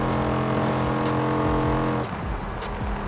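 A steady car engine drone in Forza Horizon 4 with layered harmonic tones, slightly reverberant from driving through a tunnel, then a brief drop in pitch and texture near the end.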